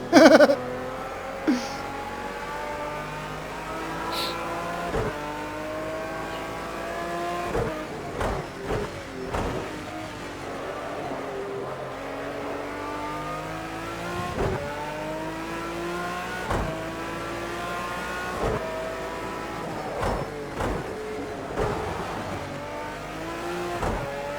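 A car engine in a driving game revs up and down repeatedly as the car circles, with rising pitch sweeps cycling over and over, punctuated by occasional knocks and bumps, at moderate level.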